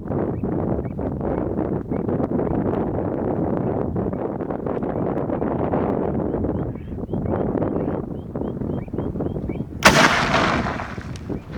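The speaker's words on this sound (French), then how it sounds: "je vais donc tirer 400 g de grenaille et" A Manufacture de Saint-Étienne punt gun (canardière) loaded with 400 g of shot and 45 g of black powder fires one loud, sharp blast near the end, after a long stretch of steady outdoor wind rumble.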